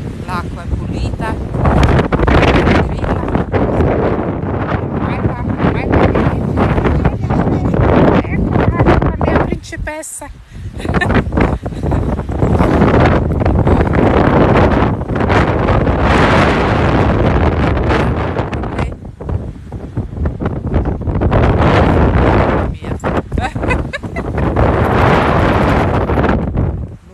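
Strong, somewhat cold gusty sea wind roars and buffets the microphone almost continuously, with a brief lull midway.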